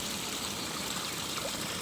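Water streams through a broken bund channel in a farm field, a steady close rushing and trickling wash with no break.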